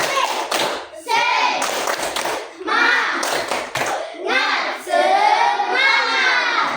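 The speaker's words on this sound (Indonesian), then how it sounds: "kita tepuk semangat dulu" A classroom of students does a rhythmic spirit clap, tepuk semangat, with bursts of patterned clapping mixed with children's chanting voices and thumps, loud and close.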